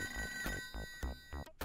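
Telephone ringing in the video game Toejam & Earl, a repeating electronic ring with about five evenly spaced pulses over steady tonal game music, loud and close.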